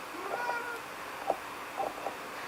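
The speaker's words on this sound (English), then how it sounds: "Here comes the cat." A house cat meows several times indoors during a floor stretching workout, short thin cries that are fairly quiet and close, with no talking.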